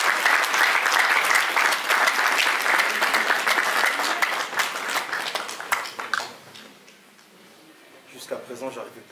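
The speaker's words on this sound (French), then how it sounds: "Est-ce que nous pouvons acclamer Jésus pour célébrer la vie?" A congregation at a funeral service in Blois bursts into loud, sustained applause mixed with voices, then the clapping thins out and dies away near the end.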